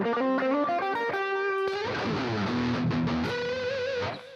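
An electric guitar plays a riff looped on a Boss RC-500 loop station, shifting midway into a thicker, distorted overdrive tone, with no talking.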